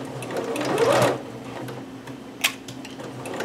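A sewing machine stitches a gathered seam in short bursts, its rapid mechanical whirr rising and pausing, with a sharp click partway through, fairly close and without any talk.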